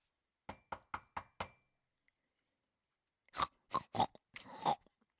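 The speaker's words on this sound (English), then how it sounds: "She heard this knock at the door" A quick series of five sharp knocks on a door, then a pause and a second louder burst of four heavier knocks, close and isolated in an otherwise quiet room.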